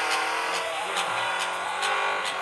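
Class A car engine revving in the Drift Max Pro video game, a steady high whine with rhythmic pulses of acceleration, no voices over it.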